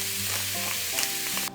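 Seasoned beef curry with salt and black pepper is stirred in a pan, a steady close sizzle with faint scraping throughout, ending in a brief louder burst of noise.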